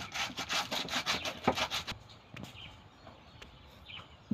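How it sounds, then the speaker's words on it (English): Wood being rubbed with sandpaper while finishing a mitre joint, in quick rhythmic back-and-forth rasping strokes for about two seconds, followed by quieter scattered scrapes and taps, close up. "remember to use a sandpaper to smoothen your work."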